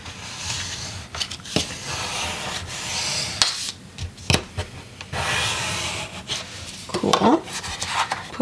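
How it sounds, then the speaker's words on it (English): A scraper tool rubs along the folded score line of a Cricut-cut card, giving repeated dry scraping strokes with brief taps and pauses, close and fairly loud. "you're just gonna fold it down the score line gently and then go over it with your scraper tool"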